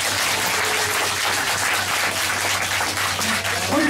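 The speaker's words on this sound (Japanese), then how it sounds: "大きな拍手をお願いいたします" At a festival event, the audience bursts into big, sustained applause, dense and even throughout, over a faint low hum from the venue.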